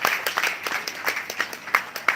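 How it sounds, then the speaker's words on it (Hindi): A short burst of audience applause: loose, uneven handclaps with distinct claps popping out, lasting about two seconds with no speech over it. "तालियां बजा दो इसके लिए।"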